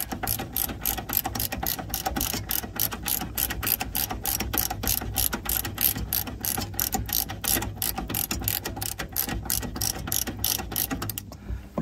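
Close, rapid ratchet-wrench clicking goes on without a break as a long bolt is backed out on an early-2000s Mercedes during a wheel speed tone ring repair, with an even mechanical rhythm and no talking.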